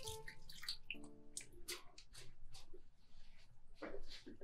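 Water splashing and dripping while washing, in short irregular bursts with clinks and small knocks, fairly faint and close.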